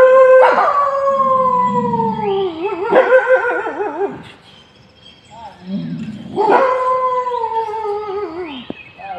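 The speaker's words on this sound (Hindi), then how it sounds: "बाघ को देखकर जंगली भेड़ियों ने तेज आवाज में चिल्लाना शुरू कर दिया" Wild dogs on a road in Pench Tiger Reserve howl loudly at a tiger, several long wavering howls rising and falling in overlapping waves, close and strong, with short quiet gaps between bursts.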